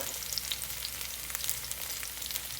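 Onions fry in a very hot skillet of oil for brown gravy, a steady close sizzle with light crackling pops and no voices.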